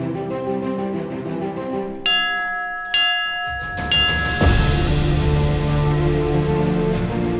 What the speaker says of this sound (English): When the bell of Valdaran by UTMB rings,